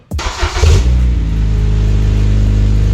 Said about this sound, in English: Check for exhaust leak.